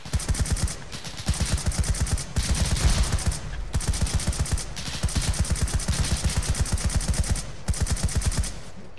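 Sustained automatic gunfire in a video game firefight with mercenary fighters, with loud rapid bursts repeating in a steady rhythm for the whole stretch and only brief pauses between volleys.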